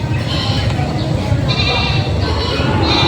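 A goat in labour bleats repeatedly through steady background noise while giving birth in a parking area in Padre Garcia, Batangas, with people talking nearby.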